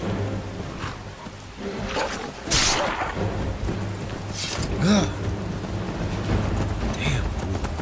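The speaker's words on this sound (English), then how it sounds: "You have to make it through this storm." A thunderstorm in the video game Skyrim: steady rain hisses while deep thunder rumbles and cracks roll through at intervals, loud and close.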